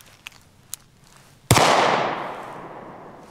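A single sharp gunshot from a LifeCard 22WMR compact folding pistol, preceded by a couple of faint clicks, then a loud crack with a long decaying echo outdoors.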